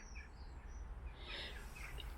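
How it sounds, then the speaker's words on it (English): Faint calls of crows and blackbirds sound from a distance, a few scattered squawks and chirps over low outdoor rumble. "They're all blackbirds, crows. Can you hear them?"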